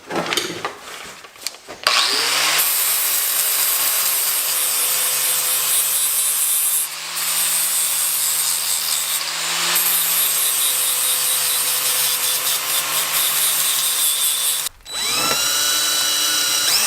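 A cutting disc grinds through aluminum with a steady, loud whine. It runs nearly nonstop for about 13 seconds, dips briefly, then starts again, with scraping and rubbing at the start.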